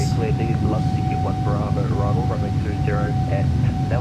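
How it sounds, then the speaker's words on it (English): An Air New Zealand Boeing 777-300ER rolls down the runway on takeoff, its engines producing a loud, steady roar and a sustained tone while someone talks over it. "We got a long takeoff roll."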